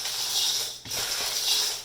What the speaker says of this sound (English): now I'm just going to give them a nice stir to mix them all up